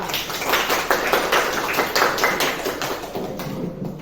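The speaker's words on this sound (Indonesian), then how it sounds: "tepuk tangan pada kita" A classroom group claps together in a steady, dense burst of many hands that holds evenly for a few seconds before thinning out toward the end, fairly close and with no voices over it.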